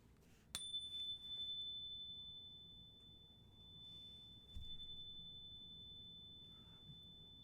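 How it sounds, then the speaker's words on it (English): A single chime rings out once at the start of a chant, a clear bright tone that sustains steadily and slowly fades over several seconds against a quiet room. "But I'm going to start off with a chime."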